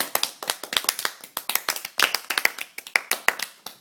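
Close, crisp hand clapping from a small group at a school arts leadership session, a brisk irregular flurry of sharp claps that keeps going without any talk over it.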